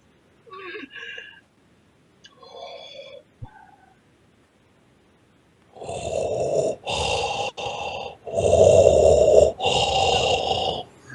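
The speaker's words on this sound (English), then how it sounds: "Sounds like you're having a hard time breathing over there" Heavy, strained asthmatic breathing rasps close to the microphone in a run of five loud, wheezing breaths, coming after a few quieter vocal sounds.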